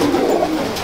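A single prized pigeon gives a soft, close, low coo, one brief throaty call with no voices over it.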